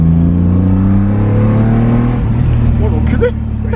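BMW E30 with a swapped M50 engine pulls away, its loud engine note climbing steadily at close range, with voices audible near the end.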